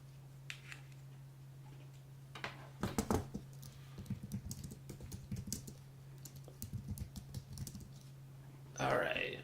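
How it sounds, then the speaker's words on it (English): Typing on a computer keyboard, with quick irregular bursts of key clicks against a steady electrical hum and a brief louder rustle near the end. "I don't know why my keyboard's not working."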